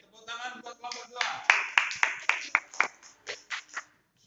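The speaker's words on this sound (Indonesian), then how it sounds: "tepuk tangan buat kelompok 2" A classroom of students claps for a group, a run of about a dozen sharp hand claps in a fairly regular rhythm, with a voice briefly heard at the start.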